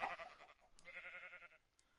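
A sheep bleats in a farm video game, two wavering bleats one after the other, clear and close, with a faint click between them.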